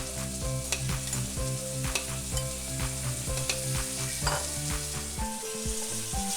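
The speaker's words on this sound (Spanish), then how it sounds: "Seguidamente de esto vamos a agregar tomate" Tomato hits a hot paella pan of garlic sofrito for a traditional paella valenciana, with a loud steady sizzle and frying crackle under regular stirring scrapes, while a faint background tune plays.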